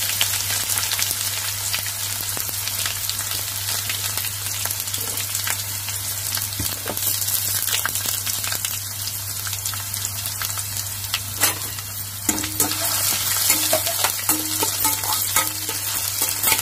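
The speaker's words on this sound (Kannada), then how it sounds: "ಎಣ್ಣೆ ಕಾದಿದೆ ನಾನು ಸಾಸಿವೆ ಹಾಕ್ತಾ ಇದ್ದೀನಿ ಜೀರಿಗೆ ಹಾಕ್ತಾ ಇದ್ದೀನಿ ಕರಿಬೇವು ಹಾಕ್ತಾ ಇದ್ದೀನಿ ನೆಕ್ಸ್ಟ್ ಈರುಳ್ಳಿ ಹಾಕ್ತಾ ಇದ್ದೀನಿ" Onion, mustard seeds, cumin and curry leaves frying in hot oil, a dense, continuous crackling sizzle with occasional spatula scrapes, close and steady throughout.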